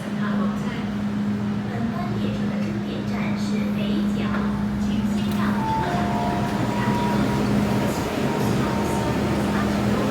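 An MTR M-train on the Tseung Kwan O line runs at Po Lam station, giving a continuous low rumble and steady motor hum with faint higher tones, with people talking quietly beneath it.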